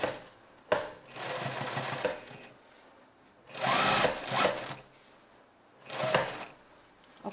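A sewing machine stitches fabric at a right angle in three separate bursts of steady, rapid mechanical chatter, separated by short pauses, close by and moderately loud, with no talk.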